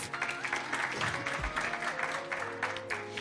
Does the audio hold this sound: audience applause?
yes